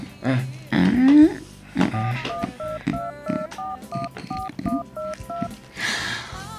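Mobile phone keypad beeps as a number is saved, a string of short, evenly paced tones mid-clip, with a person talking before and around them indoors.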